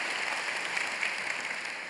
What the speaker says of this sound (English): that's a clap for you and your teachers